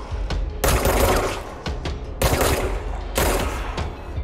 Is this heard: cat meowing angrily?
no